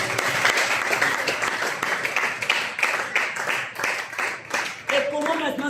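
Church congregation bursts into loud continuous applause and clapping, filling the room, with voices and cheers mixed in throughout.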